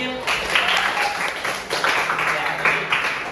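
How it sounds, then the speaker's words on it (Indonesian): A classroom audience claps for Aidil, scattered uneven applause rising and falling in waves for several seconds, with some voices mixed in. "Tepuk tangan buat Aidil."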